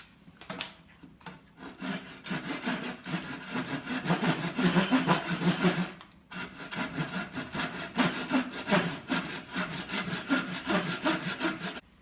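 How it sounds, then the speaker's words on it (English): A handsaw cutting an angled line through a wooden board for a picnic table, rhythmic rasping strokes in quick succession, close and loud, with a brief pause midway before the sawing resumes. "using a handsaw, we are going to cut on the angle of the line that we drew previously"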